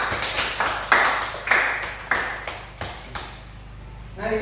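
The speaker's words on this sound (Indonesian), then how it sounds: "Oke, kasih tepuk tangan semuanya." A classroom of students claps in a series of separate, sharp bursts roughly every half second, each fading quickly, then trailing off into quiet near the end.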